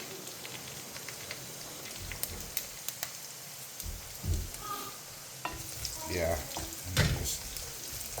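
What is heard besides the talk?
sausage frying in a pan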